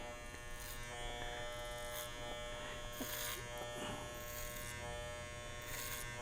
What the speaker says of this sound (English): Riding that clipper, blending the front hair into the side hair